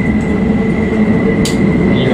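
Interior of a Keikyu New 1000 series 20th-batch twelve-car express train underway, with a steady low rumble of running gear and a constant high whine throughout, plus a brief rattle about two-thirds through.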